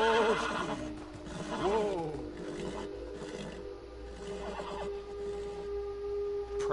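A horse whinnies loudly several times in the video game Beyond: Two Souls, with hooves shuffling and clip-clopping nearby between the calls.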